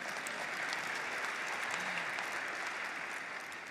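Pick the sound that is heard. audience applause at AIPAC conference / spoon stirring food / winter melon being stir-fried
audience applause at AIPAC conference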